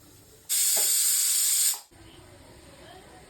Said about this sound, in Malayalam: Put some coconut oil.